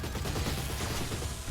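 Gunfire from a sniper creature in the Oddworld: Soulstorm video game, a dense burst of rapid shots that fills the short moment at steady loudness with no voices.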